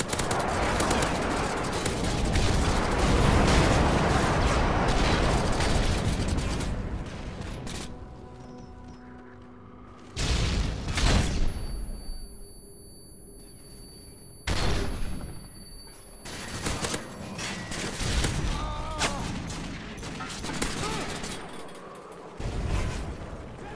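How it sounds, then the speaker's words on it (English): Video game predator missile and airstrike explosions roar in a long heavy rumble of blasts, followed by several separate loud bursts at intervals, with mechanical clatter between them. "Friendly predator missile inbound. Friendly airstrike on the way."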